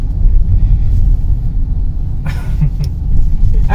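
A Mahindra XUV700 SUV with a 2-liter turbo petrol engine and automatic gearbox pulls hard, giving a continuous low engine rumble mixed with road and wind noise from inside the cabin, with a brief hiss partway through.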